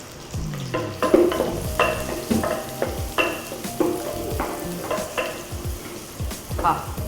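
Onions sizzle and crackle in a hot pan, with repeated scraping and stirring strokes from a utensil, close and fairly quiet, no talking.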